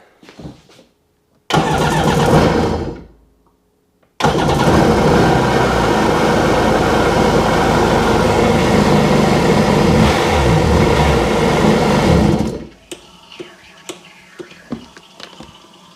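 A 2000 Sea-Doo RX DI jet ski engine cranks and catches in a short burst, cuts out, then starts again and runs loud and close with steady revving for several seconds before shutting off, leaving faint clatter behind.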